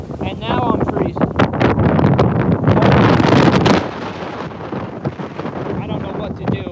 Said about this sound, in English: the gust behind this storm is crazy